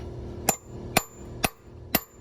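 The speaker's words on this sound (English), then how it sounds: "First we're gonna punch the middle of the bolt" Four evenly spaced, sharp metallic hammer strikes on a transfer punch set into a broken cylinder head bolt, each a crisp ringing tap roughly half a second apart, close by and with no talking.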